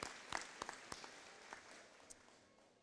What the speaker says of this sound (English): Should give her a big round of applause.